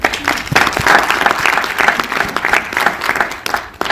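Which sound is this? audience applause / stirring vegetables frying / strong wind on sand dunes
audience applause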